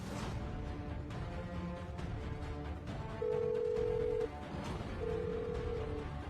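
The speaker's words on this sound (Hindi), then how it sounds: "ये फोन क्यों नहीं उठा रही है?" A telephone rings in two long electronic tone bursts against steady background noise, heard alone with no one picking up.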